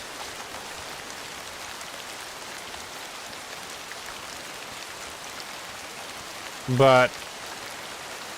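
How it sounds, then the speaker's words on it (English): Rain effects in the hunting video game Way of the Hunter 2, a steady, even patter and hiss of rainfall throughout, with someone briefly saying a word near the end. "Unreal 5 does the rain effects and stuff"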